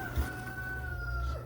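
Silkie chickens cluck and a rooster crows, in a steady farmyard bird chorus with a sustained crowing tone over low background rumble.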